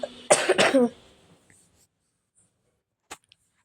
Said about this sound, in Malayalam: 2-3 ദിവസം കൊണ്ട് ഭയങ്കര ചുമ ഗൈസ്, ചുമയും കഫവും ഒക്കെയാണ്